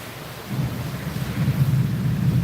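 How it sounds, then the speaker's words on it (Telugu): Low rolling rumble of thunder grows louder over a steady wash of rain, continuous and fairly close, with no voices. "వర్షం కూడా అంతే గట్టిగా కురుస్తుంది"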